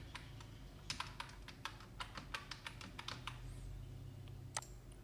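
Someone types an Aadhaar number on a computer keyboard at a service centre while applying for a PAN card, giving quiet, irregular key clicks in short bursts over a low background hum.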